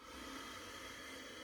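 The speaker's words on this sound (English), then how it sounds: "sighing, whistling breath," A steady, airy ujjayi breath rushes through the nose with a soft sighing hiss, close and continuous, without any talking.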